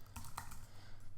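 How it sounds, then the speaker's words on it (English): A computer keyboard is typed on, giving a few quiet, close key taps over a faint room hum. "So I'm going to type that in here."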